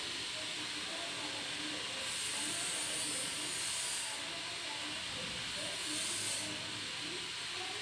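Chopped onions and dried chillies sizzle steadily in a hot pan, a loud, even hiss that swells slightly a few times, with no talking.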